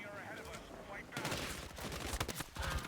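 Bursts of Battlefield 6 video game gunfire, rapid automatic shots crackling loudly in clusters after a quieter opening second.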